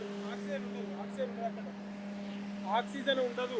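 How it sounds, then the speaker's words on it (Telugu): A steady motor hum drones throughout with a constant low tone inside a collapsed tunnel, while a voice talks over it in an echoing, enclosed space. "ఇప్పుడు ఇది మోటార్ ఆన్లో ఉంది"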